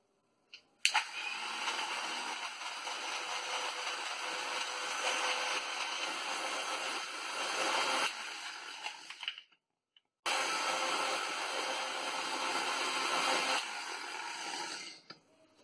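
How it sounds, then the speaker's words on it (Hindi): A kitchen blender whirs loudly and steadily while blending a mango milkshake of milk and ice cubes, running for about seven seconds, stopping briefly, then starting again for a second long run. "और अब डालेंगे ये आइस क्यूब अब इसे हम ब्लेंड करेंगे एक मिनट तक"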